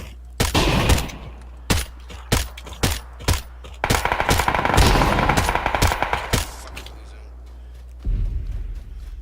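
Bursts of automatic gunfire in PUBG, loud and close, several short volleys then a longer sustained stream, with players talking over the shooting.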